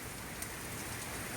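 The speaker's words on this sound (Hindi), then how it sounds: "इस वक्त तो बस कभी शदीद बारिश है और फिर रुक जाती है।" Heavy rain falls during a hurricane, a steady, dense hiss of rain on surfaces heard at moderate distance, with no talking.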